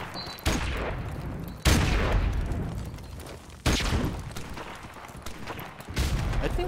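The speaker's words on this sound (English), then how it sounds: "This fuck is shooting through the wall" Gunfire in Call of Duty: Modern Warfare Remastered punches through a wall in heavy bursts, several loud booming onsets each trailing into sustained rattling fire.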